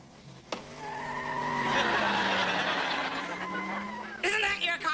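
A car skids to a halt with a long, loud tire squeal lasting several seconds, tonal and sustained under a broad rush, followed by a brief voice at the end.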